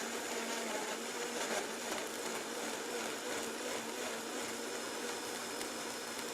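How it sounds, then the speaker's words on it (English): A Vitamix blender runs on high blending gazpacho, a steady dense whir sustained for the whole stretch at moderate level. "in this super fancy Vitamix blender, we're going to blend it on high"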